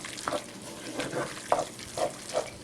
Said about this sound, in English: I'm going to add my flour, stirring very quickly now because you don't want it to lump up.